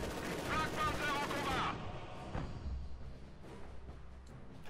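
Machine gun fire in the World War II strategy game Company of Heroes 2 sounds as a dense rattling burst that fades into distant battle rumble, with game voices over it.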